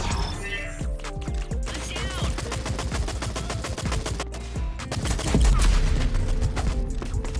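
Dense rapid gunfire from guns in the Rogue Company video game, bursts and automatic volleys crackling continuously and loudly throughout, with occasional heavier impacts.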